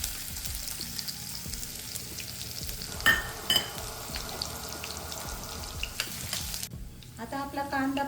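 Chopped onion sizzles and sputters in hot ghee with cumin seeds and ginger-garlic paste for a dhaba-style dal palak tadka, a steady close frying hiss broken by a couple of louder stirring clatters and a brief voice at the end.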